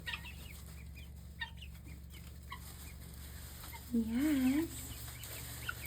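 Young peacocks and guinea fowl on a morning homestead give a short wavering chirping call amid faint clucks and soft rustling, over a steady low hum, with a person speaking quietly nearby.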